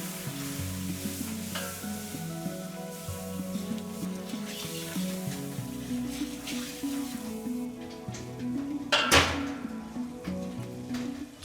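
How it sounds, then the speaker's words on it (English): Flour is stirred into melted butter in a pan, a soft steady sizzle with spoon scrapes and stirring clatter throughout, plus one sharper burst of frying noise near the end. "Keep stirring for about 5 minutes until the flour turns a lovely golden color"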